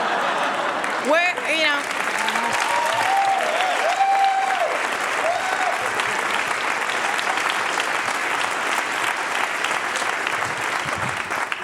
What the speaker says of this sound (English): You cannot keep applauding.